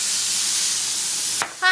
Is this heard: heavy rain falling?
no